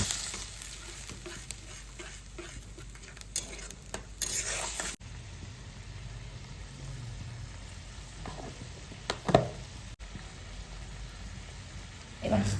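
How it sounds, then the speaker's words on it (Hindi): Onions fry in hot oil in a kadhai, giving a steady close sizzle with occasional scraping stirs and a brief louder clatter of the pan. "कढ़ाई रे तेल गरम करी गोटे पियाज को गोल्डन ब्राउन हबा जाय भाजीबा"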